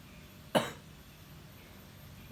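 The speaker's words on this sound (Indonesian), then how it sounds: "karena batuk" One short, sharp cough cuts through a quiet background and then fades, with no speech around it.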